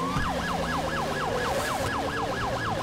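In GTA 5, a police car siren wails in a fast, rapid sweep that repeats about ten times, loud and close over a low engine drone.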